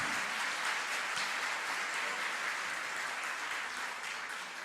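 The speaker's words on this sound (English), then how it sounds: "Everybody, please give a big round of applause." Continuous audience applause at the closing ceremony of an Ayurveda and yoga expo, a dense, even wash of many hands clapping, moderately distant and holding steady before tapering slightly at the end.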